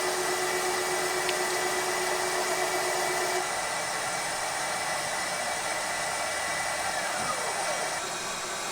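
A valve seat is cut in a cast-iron cylinder head from a Minneapolis-Moline G1000 tractor engine. The cutting tool's motor gives a steady, close whine and hiss that drops slightly in pitch partway through.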